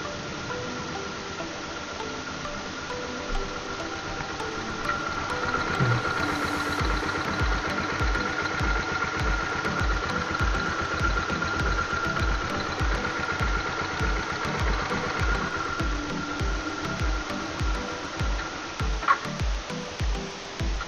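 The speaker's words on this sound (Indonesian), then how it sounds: "Dan kita dengarkan suara motornya. Bisa kalian dengarkan ya," A 2010 Yamaha Jupiter MX 135 motorcycle engine idles steadily at close range, a continuous even chugging that runs unbroken from start to finish with no one talking.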